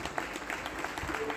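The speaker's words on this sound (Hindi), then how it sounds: "आप सबके लिए भरपूर तालियां हुई" Applause from a gathered parish community welcoming visiting Franciscan general leaders at St. Elizabeth parish, a steady, fairly faint wash of clapping with some crowd murmur mixed in.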